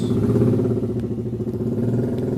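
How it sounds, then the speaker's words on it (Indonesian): A Yamaha R15 sport motorcycle goes by with a steady mid-pitched engine drone, strongest at the start and easing slightly as it moves on, accompanied by faint traffic noise. "Nah, barusan yang lewat itu Yamaha R15 teman-teman"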